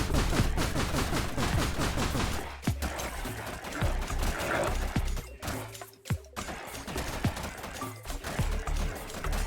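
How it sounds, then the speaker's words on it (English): Dense, chaotic bursts of explosions and rapid gunfire crackle continuously in the video game Forager on Nintendo Switch, loud and close, with a few sharp booms standing out. "Oh, look at explosions."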